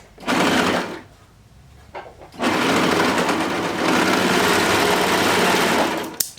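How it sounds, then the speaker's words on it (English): A sewing machine stitches through fabric in two loud, fast whirring bursts, up close, separated by a brief pause with quieter handling noise. "Now I'm going to sew this little middle part right here."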